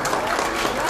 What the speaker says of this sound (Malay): Satu tepukan berani kita.